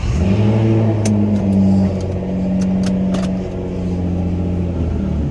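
A Nissan GT-R started up and revved, its engine catching and settling into a steady burbling idle with a few brief sharp blips, close and fairly loud, no talking.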